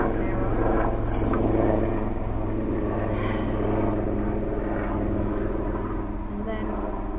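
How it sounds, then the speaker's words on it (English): A helicopter drones overhead at Glastonbury Tor as a steady low rumbling hum, heard under a person talking throughout. "So just wait for that helicopter to clear off"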